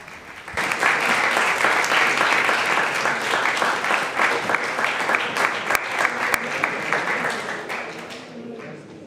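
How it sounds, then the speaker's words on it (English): An audience applauds director Pete Baumgartner as he receives a New Directors Award at a 2024 press conference, with dense, steady clapping sustained for most of the clip before tapering off near the end. "A big round of applause."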